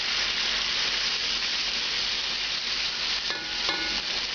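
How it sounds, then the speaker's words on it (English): Chicken for cacciatore sizzles steadily in a hot pan as a splash of red wine goes in to glaze it, a close, continuous frying hiss with a brief bubbling flare near the end. "Now I'm going to glaze it with a little bit of red wine first."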